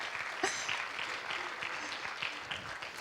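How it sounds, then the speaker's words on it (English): Audience applause at a conference event: steady, moderately loud clapping from a room of people, continuous throughout with a few sharper claps standing out. "You can give him applause."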